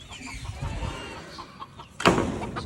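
Native free-range chickens in a small backyard give scattered low clucks nearby, followed by a sudden louder squawk. Faint background noise runs beneath.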